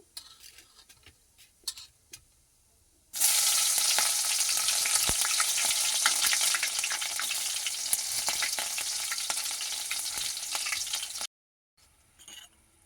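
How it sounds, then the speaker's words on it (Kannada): Green chilies hit hot oil already holding cumin and mustard seeds, bursting into a loud, steady hiss and crackle that lasts about eight seconds, with light clatter before and after. "ಎಣ್ಣೆ ಕಾದ ನಂತರ ಜೀರಿಗೆ ಮತ್ತು ಸಾಸಿವೆನ ಹಾಕ್ಕೊಂಡಿದ್ದೀನಿ ಇವಾಗ ಹಸಿರು ಮೆಣಸಿನ್ಕಾಯಿನ ಸೇರಿಸ್ಕೊಳ್ಳೋಣ"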